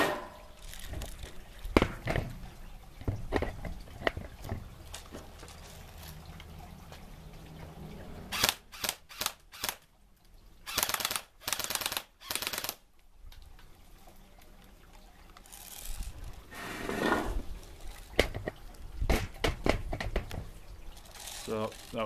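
An airsoft M4 rifle fed from an SRC high-capacity magazine firing at cardboard targets, sharp clacking shots in quick bursts and a few single pops, set among scattered handling noise and clatter.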